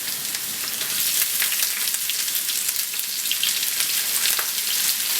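Ginger, garlic and onion sizzle steadily in hot oil for Bangladeshi masoor dal, a loud, continuous crackling fry with no talk over it.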